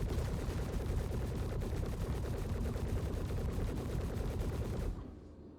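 Spaceship weapons in the space game Star Citizen fire in a rapid, unbroken stream of heavy blasts that is loud and close. The shots run for about five seconds and then stop, leaving a low hum.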